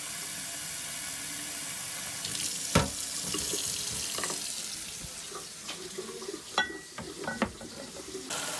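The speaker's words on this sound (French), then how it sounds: "je vais remplir mes bouteilles d'eau pour pas qu'ils remontent à la surface" Water running from a tap into wine bottles being filled, a steady close wash of splashing and gurgling with occasional sharper drips and clinks as the flow shifts, no voices over it.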